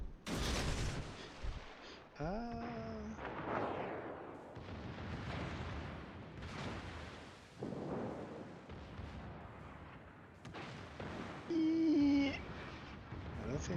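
Naval gunfire and torpedo hits in the warship battle game World of Warships, a run of heavy booming salvos and rumbling blasts, loud and close, with scattered game tones between them.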